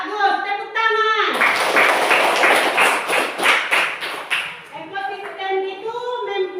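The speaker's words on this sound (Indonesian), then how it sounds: "bagus, tepuk tangan." A group of children in an Indonesian classroom claps together in a quick, rhythmic burst of applause, with young voices chanting before and after.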